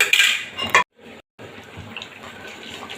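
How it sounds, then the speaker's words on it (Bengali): A utensil stirs fried bori, bitter gourd and brinjal into boiling curry, with clattering and scraping against the pan and wet bubbling sounds, close and moderately loud, broken by brief gaps of silence. "এই সময় দিয়ে দেবো আমি ভেজে রাখা বড়ি, করলা আর বেগুন একসাথে দিয়ে নেড়ে চেড়ে দেবো"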